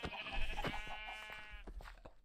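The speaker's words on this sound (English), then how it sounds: "Come on, sheep. Get in there." A single sheep bleats in a long wavering call, fairly close and clear over a quiet background, heard in a Minecraft-style farming game as a flock is herded into a barn.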